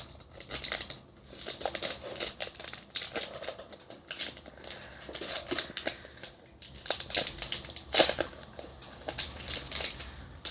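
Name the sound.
Pokémon XY booster pack being torn open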